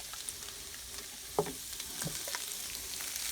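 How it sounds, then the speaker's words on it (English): A spoon stirs red chili and hamburger meat in a pot, with soft scraping and a few sharp knocks over a quiet, steady sizzle. "We're just gonna mix this chili up real good now that we have most of the ingredients in it."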